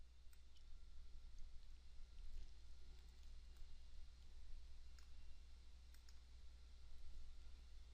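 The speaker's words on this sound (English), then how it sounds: "Click on the Edit link across from the name of the form." A computer mouse clicks an Edit link in form-management software: a few faint, sharp clicks scattered over a steady low hum, with no talking.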